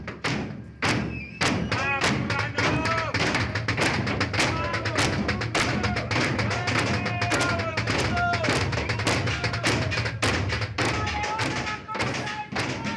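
Inmates at Devoto prison in Buenos Aires bang loudly and rhythmically on metal and walls during a riot, a dense clatter of thuds and taps with shouting voices mixed throughout.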